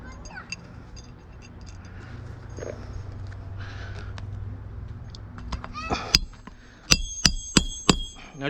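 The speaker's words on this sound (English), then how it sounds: "whenever I'm just nailing down this new shingle" Hammer nailing a new asphalt roofing shingle down during a roof repair, several sharp ringing strikes close by in a quick series near the end, after a stretch of low rumbling background.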